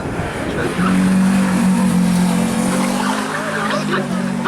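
Slalom race car roaring loud and close as it nears the finish line, engine note climbing steadily with some tire squeal, while a commentator talks over it.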